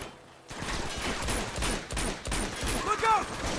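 Shotgun fire in the video game Uncharted 2 comes as dense, loud bursts of overlapping blasts and battle noise that continue almost throughout.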